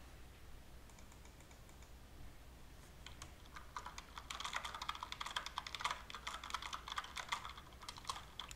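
Rapid typing on a computer keyboard during an online game session, a fast, dense clatter of keystrokes that starts faint and grows steadier and louder, close and alone.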